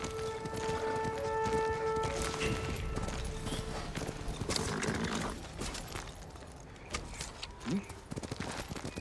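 Horse hooves clop rhythmically at a trot over soft background music in the video game Ghost of Tsushima, the hoofbeats fading and thinning out toward the end.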